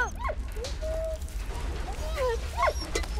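A dog in the World War I video game Valiant Hearts gives short yips and rising whimpers, several quick cries close by over a low rumbling game background.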